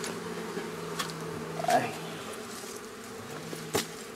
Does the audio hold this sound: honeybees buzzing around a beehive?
yes